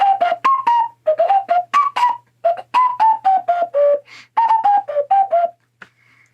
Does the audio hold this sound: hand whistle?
yes